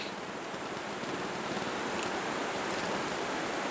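Steady broadband rush of flowing water from Colt Killed Creek, a mountain stream followed by Lewis and Clark, heard as a constant, fairly close wash with no voices.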